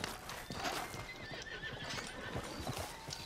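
A horse in Red Dead Redemption 2, hooves clip-clopping in an uneven rhythm with a whinny in the middle, close and fairly loud over faint background ambience.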